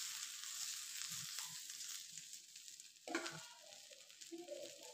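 Vegetables frying in a hot pan sizzle with a constant hiss, broken by soft scraping and stirring sounds and a sharper burst of sizzle partway through, close and fairly quiet.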